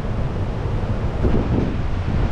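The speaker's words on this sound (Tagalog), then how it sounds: "hampas ng mga alon tsaka malakas ang hangin dito" Wind rushes hard against the microphone over a constant low roar of crashing waves at the seaside in Sulangan, Guiuan, loud and steady throughout with no voices.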